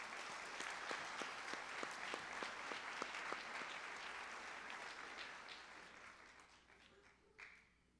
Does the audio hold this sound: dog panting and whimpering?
no